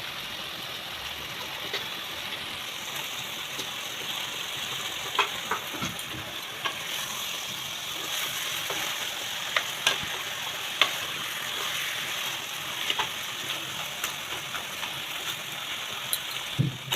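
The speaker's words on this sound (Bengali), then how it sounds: "মাথাগুলো দিয়ে দিয়েছি, তারপর হালকা নেড়ে ছেড়ে ওপর থেকে জল দিয়েছি সেদ্ধ হওয়ার জন্য।" Pre-fried catla fish heads are stirred through spice paste in a pan, a steady frying sizzle running throughout with scattered scraping clicks from the spoon, close and fairly loud, no voices.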